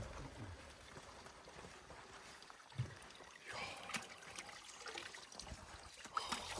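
Mountain spring water trickling and dribbling steadily, faint and low, with soft splashes and no talk.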